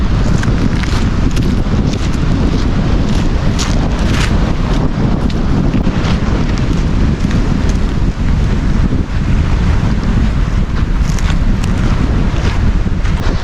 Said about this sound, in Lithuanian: Taip pabūn, kai pakliūni į audrą.